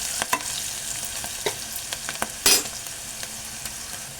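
Turmeric frying in oil in a pan for a cauliflower curry, giving a steady close sizzle broken by occasional spoon scrapes and taps, with one louder clatter near the middle.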